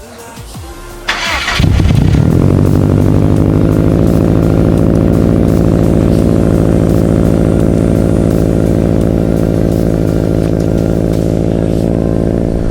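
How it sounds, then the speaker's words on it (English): A car engine cranks briefly, catches, and settles into a loud, steady idle that rumbles on without pause. "I'm gonna start my car and we're gonna head over there"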